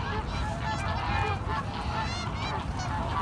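A flock of geese honking repeatedly while being fed in a park, overlapping nasal calls over steady outdoor background noise.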